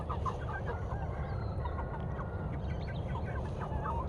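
Chickens cluck and murmur continuously over a steady outdoor background on a freezing day in Phoenix, Arizona, with soft overlapping calls from a small flock nearby as food scraps arrive.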